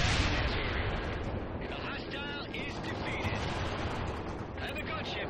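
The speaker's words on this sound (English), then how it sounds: "That is the worst artillery shot I think I've ever seen" Artillery shot in the World in Conflict video game, heard as a heavy, sustained rumbling roar of battle noise that fills the whole stretch, with brief radio-style voices talking over it.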